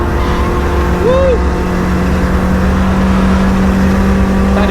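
Toyota Starlet GT Turbo engine pulling hard on the Nürburgring, a loud steady drone heard from inside the cabin with a rising whine, close and continuous throughout.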